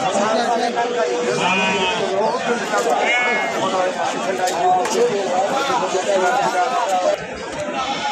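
Goats bleat repeatedly amid a busy crowd at a goat market selling Totapuri and other breeds, with people chattering and talking loudly throughout.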